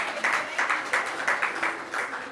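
An audience at an evening event in a Sheraton hotel applauds steadily, a dense, fairly loud wash of clapping with regular swells and no one speaking over it.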